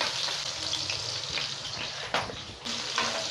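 Onions and green chillies frying in oil for wheat rava upma, a steady close sizzle with a few clinks and stirring scrapes along the way.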